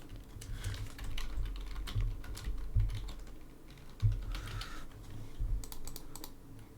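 Quiet, steady typing on a computer keyboard, a close run of small key clicks with a few heavier taps, no voices.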